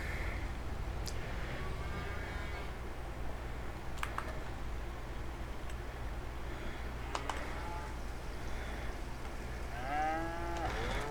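Cattle lowing inside a barn in Farming Simulator 25, a few drawn-out moos spread across a steady background hum, moderately faint, with occasional clicks like keyboard typing.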